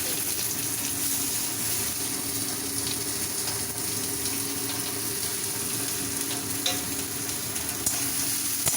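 Chopped garlic and onion frying in mustard oil in a pan, a steady loud sizzle with occasional stirring scrapes throughout.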